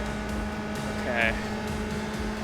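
A race car engine in the iRacing video game climbs Spa's Eau Rouge, a steady droning whine held at high revs, with a voice speaking over it.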